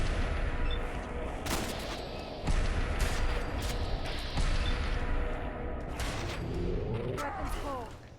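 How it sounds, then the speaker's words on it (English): Shotgun blasts from an instigating shotgun in Fallout 4, fired a few times at spaced intervals, each a loud, sharp boom over a busy, noisy game soundscape. "Try out this new instigating shotgun."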